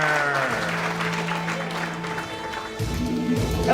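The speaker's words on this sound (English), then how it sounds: "everybody keep clapping until I find the music for it" A live comedy podcast audience in Portland, Oregon keeps up a continuous round of clapping, a steady wash of many hands that runs under tonal musical sounds and a voice, with a louder lift near the end.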